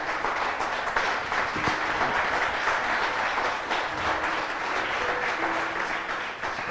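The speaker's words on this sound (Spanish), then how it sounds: "Dale ese aplauso al Señor." Congregation in a church breaks into sustained applause, a full, close wash of many clapping hands with faint murmurs and a few scattered voices mixed underneath.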